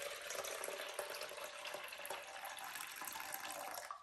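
Water pours in a steady trickling stream into a measuring cup, splashing softly and continuously before stopping abruptly.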